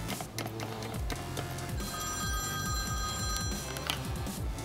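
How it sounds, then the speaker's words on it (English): A telephone ringtone rings during a phone call, a repeating electronic trill that is loud and close, looping steadily for several seconds over busy background noise. "Okay, I have my phone, and I'm gonna call Piglet right now"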